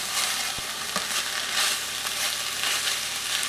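Tender, cooked-down onions sizzling in a pan, a close, continuous crackling fry with a few soft clicks of stirring, no voices.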